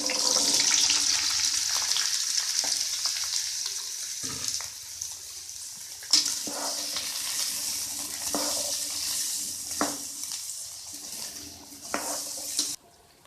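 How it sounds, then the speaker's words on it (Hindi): Chickpeas frying in the oil left over from cooking onions, a steady close sizzle running throughout with a few sharp crackles and stirring knocks, no voices. "ये जो तेल हमने लिया था प्याज के लिए उसी में हम चने डालेंगे और इनको फ्राई कर लेंगे।"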